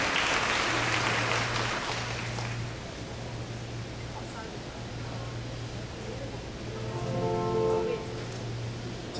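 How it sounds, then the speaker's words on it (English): Audience applause at a Buddhism and science symposium, a steady broadband wash of clapping that stays moderately loud throughout, with a low hum underneath and faint voices and music-like tones rising near the end. "a big round of applause for Dr. Ng"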